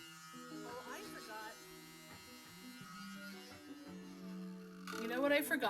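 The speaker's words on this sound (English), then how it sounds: "Smallest blow dryer." A small handheld blow dryer runs with a steady electric whir through the whole stretch, holding a constant drone and swelling louder near the end as it is brought closer during acrylic fluid-art painting.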